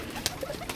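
French pigeons coo softly in a brief, faint burst over a low background hum, with no talking.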